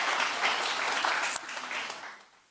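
An audience claps steadily at an award presentation honoring Melissa Rauch, a moderately distant, dense round of applause that gradually fades away.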